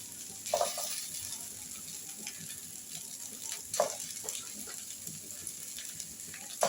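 Boiled potato pieces sizzle in hot oil in a frying pan while cooking a rohu fish murighonto, a steady soft frying hiss with a few louder crackles and stirring clatters, no voices.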